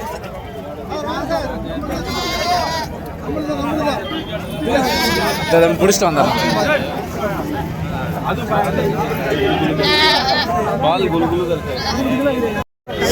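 Sheep bleat repeatedly amid a busy crowd at a livestock market, with people talking and chattering throughout over steady background noise.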